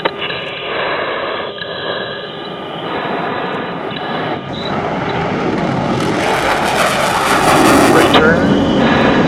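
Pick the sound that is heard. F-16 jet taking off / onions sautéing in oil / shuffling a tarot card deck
F-16 jet taking off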